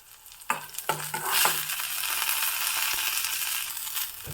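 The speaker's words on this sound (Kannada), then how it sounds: "ಕರಿಬೇವನ್ನು ಸಹ ಹಾಕ್ತಾ ಇದ್ದೀನಿ" Curry leaves drop into a hot pan of oil and burst into sizzling, several sharp crackles and pops in the first second and a half before settling into a steady, close frying hiss.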